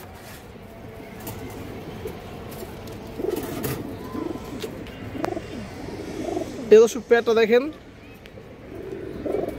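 A pair of pigeons, one a male, coo softly in short, low bursts close by, mostly beneath someone talking steadily, with a brief flurry of wing flaps near the end.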